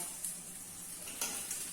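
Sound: meat frying in a pan

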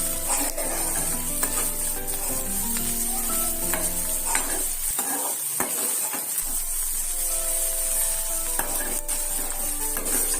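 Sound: stirring potato and eggs frying in a pan

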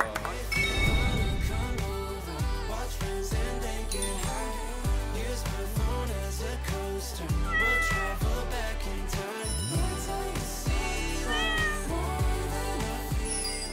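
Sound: cats meowing

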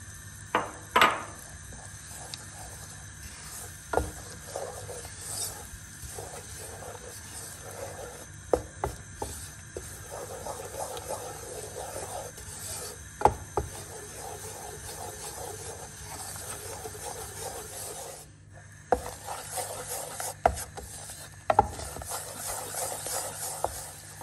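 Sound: flour being toasted in oil in a pan

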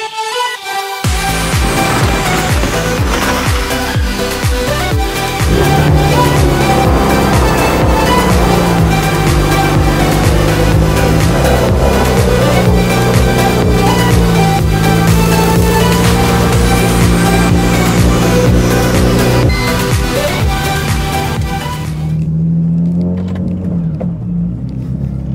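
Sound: BMW Z4 with N54 engine on a test drive

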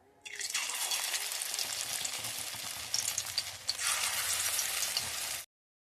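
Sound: spinach pakoras frying in oil

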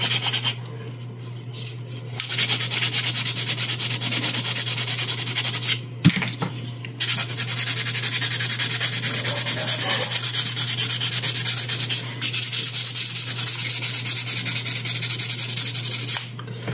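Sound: sanding filler smooth with files and sandpaper

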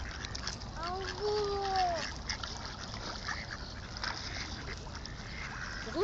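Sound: ducks quacking on the water

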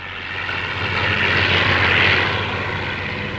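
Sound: low-flying propeller airplane

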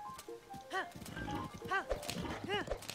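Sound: horse hooves in video game Zelda Tears of the Kingdom

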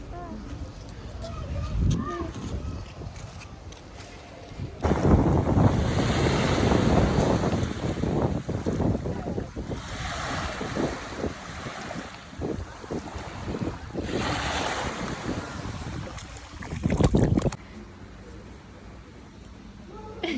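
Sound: sea waves and wind at the seaside

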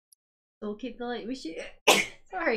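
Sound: sneeze

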